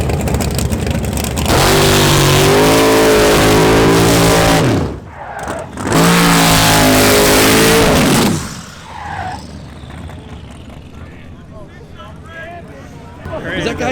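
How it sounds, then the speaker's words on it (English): A Chevrolet Malibu and a black Mustang launch side by side at a legal street race, two loud bursts of hard acceleration with rising engine roar, a brief gap between, then fading away into crowd chatter. "this is the Malibu versus the black Mustang I was talking about"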